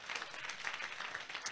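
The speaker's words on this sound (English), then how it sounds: "Please clap for this girl." Classroom applause for a pupil during a maths lesson, a brief, faint patter of clapping hands heard from a distance.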